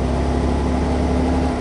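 A Chevrolet Monza engine held in neutral, throttle blipped slightly, gives a steady, close, low rumbling drone with a constant hum running through it and no clear rise in pitch.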